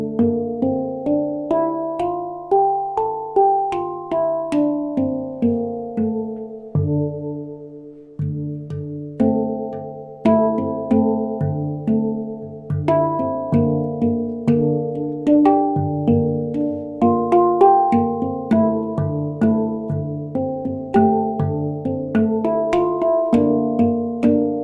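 A handpan rings out a melodic scale, its resonant, overlapping tones struck in a steady flowing rhythm with sustained ringing notes, played alone and close.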